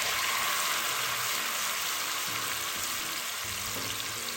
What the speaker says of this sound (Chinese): 再将豆干全部倒入油炸。